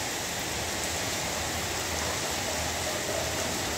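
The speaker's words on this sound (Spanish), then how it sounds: "Y miren ahorita cómo se encuentra lloviendo" Rain falling steadily, a dense, even hiss of drops with no pauses, fairly loud and close throughout.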